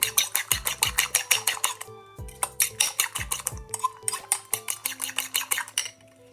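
A spoon scrapes and clinks rapidly against a bowl while chopped mushrooms, tomatoes and chilies are mixed for a spicy bread omelette, steady rhythmic bursts with brief pauses, close and clear, no talking.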